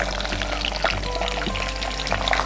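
Halved garlic cloves frying in hot oil in a pan, giving a steady close crackling sizzle with scattered pops and light clinks throughout, no talking.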